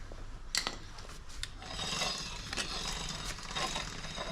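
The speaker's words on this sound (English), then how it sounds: "a little bit of scraping is fine. I'm not too concerned about a tiny bit of scrape" A bicycle brake scrapes faintly, giving a soft, repeated rasping rub at a steady rhythm, like a brake pad lightly dragging against a turning wheel.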